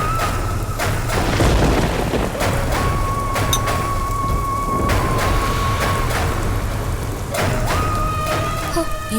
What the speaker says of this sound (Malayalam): എന്തൊരിടി മഴയോ!